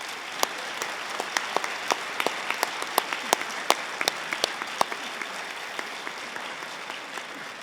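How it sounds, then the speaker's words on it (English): Round of applause from an audience at a University of Hertfordshire ceremony, a steady bed of many hands clapping with distinct close individual claps popping out over it, continuing for several seconds. "share your appreciation of what they've contributed with a round of applause as well"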